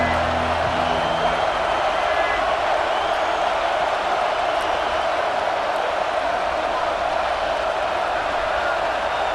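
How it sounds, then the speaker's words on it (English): Crowd in a football video game roars steadily, a broad continuous wash of cheering at a constant level throughout, with brief talk at the very start. "This crowd trying to show them what it's going to be like all day in this house."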